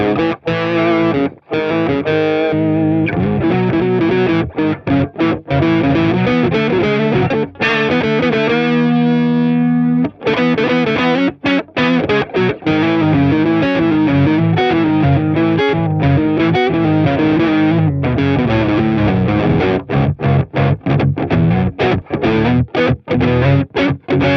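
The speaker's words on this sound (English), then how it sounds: "So this is with a harmonizer." Distorted electric guitar run through a NUX Trident's harmonizer, stacked pitch-shifted voices riding each riff, loud and continuous with brief choppy gaps between phrases.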